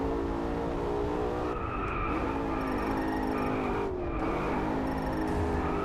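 A Maserati GranTurismo in a virtual-reality racing game drifts with the handbrake: a steady, droning engine note with tire-skid noise runs continuously at moderate volume for several seconds.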